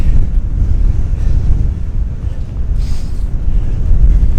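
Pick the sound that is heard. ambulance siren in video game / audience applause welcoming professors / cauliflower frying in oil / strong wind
strong wind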